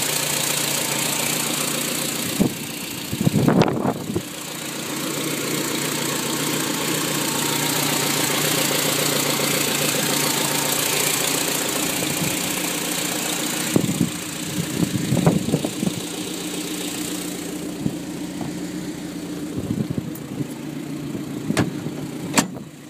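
A BMW M3 Johnny Cecotto edition fitted with a carbon induction system idles steadily and close by, with a few short throttle blips near the start and around the middle.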